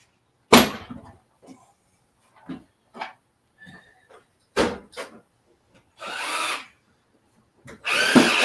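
A power drill drives screws into a wooden garden bench in short, separate bursts, close and loud, mixed with knocks and scraping of wood between the runs.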